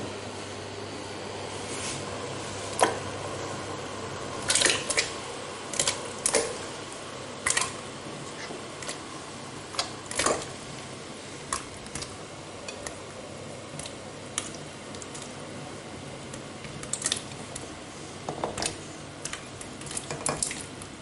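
Figs go into a pot of boiling water with scattered clinks and knocks of utensils on the pot, over a steady bubbling hiss. The sharp impacts come irregularly, some louder and near, others faint.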